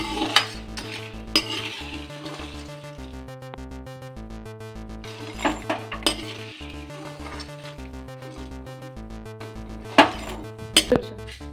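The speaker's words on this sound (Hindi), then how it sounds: "अब हम इसे एक बाउल में निकालेंगे।" Roasted golden-brown dal is scraped and tipped from a pan into a bowl with scattered close clinks and scrapes of metal on metal. A steady tonal background of music runs beneath it, and no one speaks.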